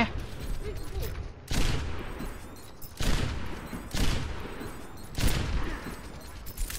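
Rapid bursts of gunfire from an Overwatch match, four loud fusillades separated by short pauses and layered over continuous game noise.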